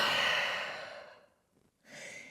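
A deep, audible breath taken in downward dog during a vinyasa yoga sequence: a long breathy exhale fading out, a brief pause, then a shorter breath close to the microphone.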